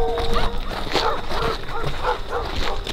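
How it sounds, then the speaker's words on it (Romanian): Dog barking in the distance at night outside an abandoned manor house in Greece, repeated yips and barks rising over constant background noise and hushed voices. "S-aude mai aproape, mă, câinele ăla?"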